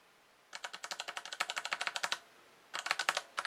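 Typing on an aluminium-bodied mechanical gaming keyboard with a number pad, crisp rapid key clicks in two bursts separated by a short pause, close and alone without speech.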